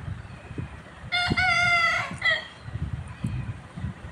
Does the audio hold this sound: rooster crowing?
yes